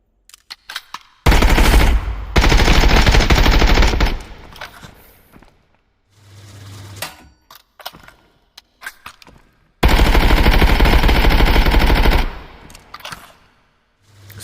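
Full-auto 5.56x45 rifle fire in the shooter game Contractors Showdown: two long, loud, close bursts of rapid automatic shots separated by quiet gaps, with short clicks and a brief low thump between them.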